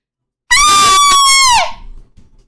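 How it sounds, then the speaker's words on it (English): A single long, high-pitched scream from a person, loud and close, held steady for about a second before dropping off sharply into quiet room noise. "Why do you guys want me to scream so much?"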